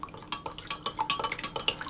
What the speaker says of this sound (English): and give that a stir around.